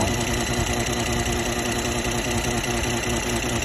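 A Mercedes-Benz GLE43 with the M276 engine idles with an unusual noise in the engine bay, a dense, constant close engine rumble and vibration with no talking.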